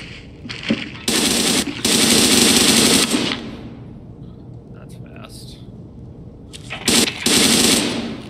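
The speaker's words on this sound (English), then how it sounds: "That was a scav shooting me, I'm fine." Escape from Tarkov: a scav's gunfire hits the player in loud, close, rapid bursts, a long stream broken by pauses, then another short volley near the end.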